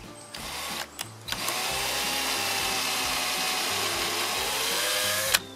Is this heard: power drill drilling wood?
yes